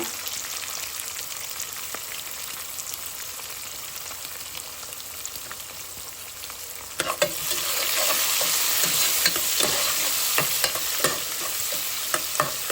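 Tempering of dried red chillies, coriander and asafoetida frying in hot oil for Andhra-style pappucharu, a continuous close sizzle that grows louder midway, with scattered crackles and occasional stirring scrapes.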